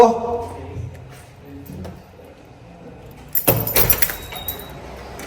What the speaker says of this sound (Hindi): चाबियां भी निकालो।